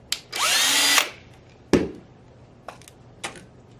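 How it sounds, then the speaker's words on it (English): A power screwdriver backs Phillips head screws out of a Tippmann A5 paintball marker with a close, loud whir that lasts about a second, followed by a sharp clack and a few lighter clicks of the parts. "Go ahead and remove those Phillips head screws."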